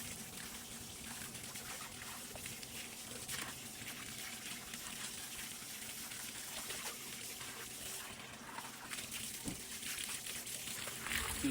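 Water runs steadily from a tap as a skinned backyard chicken is rinsed, a continuous faint trickle and splash with occasional louder gushes.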